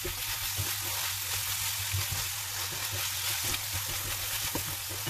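Minced beef seasoned with black pepper and salt sizzles steadily in a hot pan, a constant close frying hiss with faint stirring scrapes and no voices.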